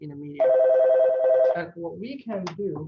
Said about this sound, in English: I'm sorry for the phone call